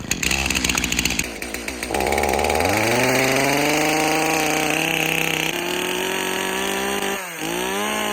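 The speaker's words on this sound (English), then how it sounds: "here comes my weekly struggle of starting this chainsaw in the winter." A chainsaw sputters on a few pulls in winter cold, then roars to life and runs loudly and steadily, its engine pitch climbing and settling, with a brief dip near the end.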